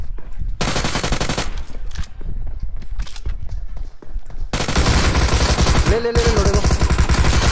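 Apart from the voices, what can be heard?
gunfire in the video game BGMI, enemy drop-shotting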